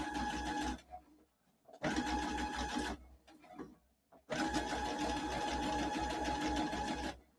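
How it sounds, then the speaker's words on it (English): A Brother sewing machine top stitches around a fabric edge in three bursts of fast, rhythmic needle chatter, separated by short pauses, close and clear with no talking. "I'm just going to top stitch around the whole upper edge there."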